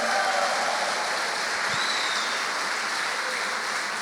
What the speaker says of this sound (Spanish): Si ese aplauso es para Dios, denle un fuerte aplauso más fuerte